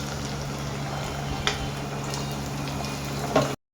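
Chopped onion frying in a generous amount of hot oil for mixed vegetable egg pulao, a steady close sizzle with a few small pops and stirring clinks, ending abruptly.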